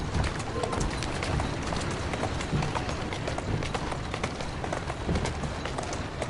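Horse hooves clip-clop steadily through the video game Assassin's Creed Syndicate: a continuous, fairly loud clatter of hoofbeats at a brisk pace over street ambience, with no talk.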